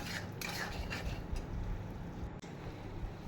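A spice masala for jackfruit kofta curry is stirred and fried down in a pan. Faint scraping and clinking of the spoon against the pan sit over a low, continuous sizzle.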